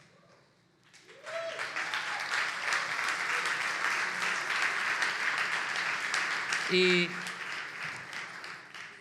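An audience breaks into sustained applause that swells quickly and holds steady for several seconds. A brief voice opens the clip and a few cheers rise within the clapping.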